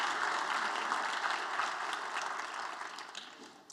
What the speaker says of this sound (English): Give y'all a round of applause to each other.